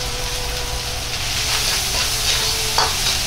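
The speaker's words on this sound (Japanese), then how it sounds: "ニラを入れ、軽く炒めます。" Garlic chives stir-fried with ground pork in a hot pan, a loud continuous sizzle with soft stirring scrapes and a small clink near the end.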